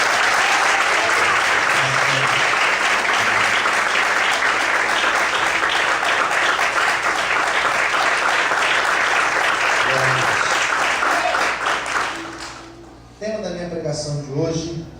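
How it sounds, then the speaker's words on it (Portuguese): A church congregation claps loudly and continuously in a dense, sustained roar of applause that ends abruptly, followed by a voice speaking. "Você pode aplaudir bem forte ao Senhor Jesus?"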